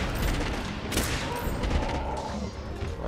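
Rapid gunfire in Monster Hunter World while fighting Diablos, a dense loud burst of crackling shots with thuds and crashes throughout, little talk over it.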